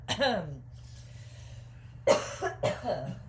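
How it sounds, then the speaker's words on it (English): A voice starts, then falls quiet; after a pause come a couple of short, rough throat-clearing bursts close to the mic. "Everybody just clear your throat."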